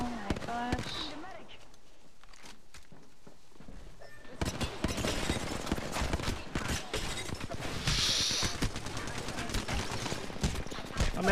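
Rapid bursts of gunfire from the video game Apex Legends, starting quiet and sparse, then turning into dense, loud, continuous shooting after a few seconds, with a player talking over it.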